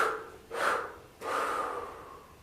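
Breath is drawn in and pushed out during a yoga twist done with a resistance band, heard as two airy, close exhales a little over half a second apart, the second longer and slowly fading.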